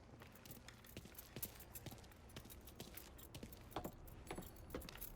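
Car keys jangle in the Mafia 3 video game, faint irregular metallic clinks and rattles repeating over several seconds against quiet background noise, with no talk.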